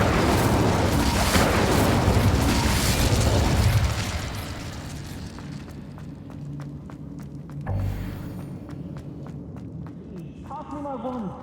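Incendio fire spell cast in the Hogwarts Legacy video game: a loud, close whooshing burst of fiery rumble that roars for a few seconds and fades, followed by faint crackles and a brief later thump.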